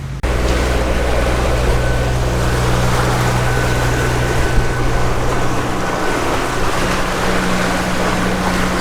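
A catamaran motor sailing north on the Chesapeake Bay near sunset, its engine giving a steady low drone with water rush and light wind noise, continuous and close throughout.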